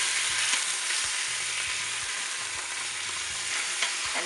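Pork tenderloin browning in an Instant Pot after being flipped: a loud, steady close sizzle of frying meat with occasional light stirring or scraping taps.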